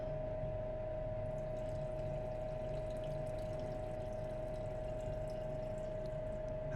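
Nitric acid is poured into a container of old filter papers, making a faint, steady liquid trickle with a thin, sustained tonal hum behind it and no voices.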